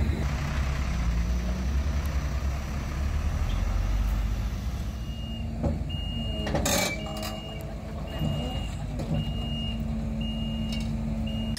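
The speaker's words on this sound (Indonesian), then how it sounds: "beginilah pergerakan mesin Asiana ini yang dikendalikan dengan menggunakan remote control. Primary crusher ini mobile." Mobile primary crusher machine run by remote control at a Jakarta waste processing site, heavy machinery rumbling with clanks and sharp metallic knocks, repeated warning beeps, loud and close.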